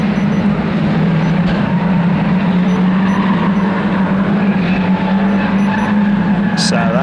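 Saloon stock cars in a 2-litre class race past at a short oval track, a loud, steady engine drone with a sustained low tone filling all seven seconds, the field streaming through continuously without breaks.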